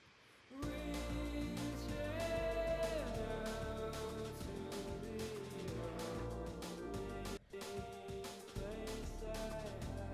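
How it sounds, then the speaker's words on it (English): A full music mix with a bright, crisp lead vocal over drums and instruments, the top end sounding slightly gritty and forward, with one brief dropout. "I added fresh air, which saturates high end"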